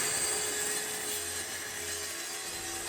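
A saw rips a sheet of 12mm birch plywood to width, giving a steady, continuous cutting whine with constant broadband noise and no pauses.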